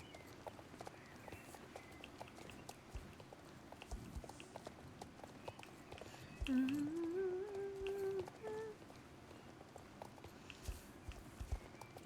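Horse hooves clop at a steady walking pace in the video game Star Stable, ridden on a dragon horse, a soft repetitive patter under game ambience with a brief tonal game sound partway through.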